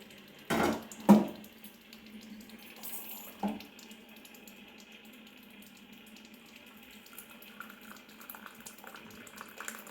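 Hot water poured into a glass, a few short splashy bursts near the start followed by a quiet steady trickle, faint and close.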